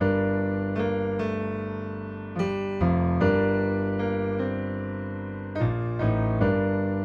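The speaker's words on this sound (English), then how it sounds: "Very basic like piano section" A simple piano pattern repeats steadily, sustained chords and melody notes shifting every second or so, played alone with no voices.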